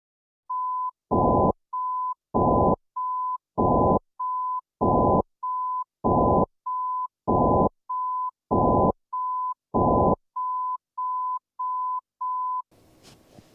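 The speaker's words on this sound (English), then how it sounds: "A partially masked 1000 Hz tone alternates with an unmasked 1000 Hz comparison tone." Steady 1000 Hz beeps repeat in a regular on-off pattern, a partially masked tone alternating evenly with an unmasked one, some softer and some louder, then a faint hiss at the end.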